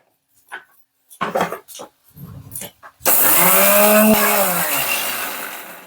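An electric grinder whirs loud and close as it grinds spices in a village kitchen, a steady high whine kicking in after some short bumps and clatter and running on to the end.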